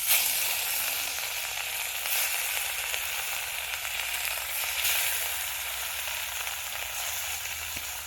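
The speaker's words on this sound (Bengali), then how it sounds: "এদিকে তেলটাও গরম হয়ে গেছে। এখন মাছটা দিয়ে দেব।" Fish frying in hot oil at a pondside cookout, a loud, dense, steady sizzle and crackle held close throughout with no talking.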